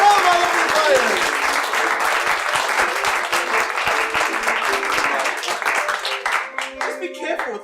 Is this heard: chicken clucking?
no